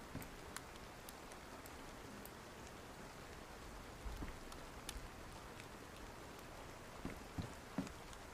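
Rain falls as a soft, steady hiss with scattered drops tapping nearby surfaces, faint and continuous throughout.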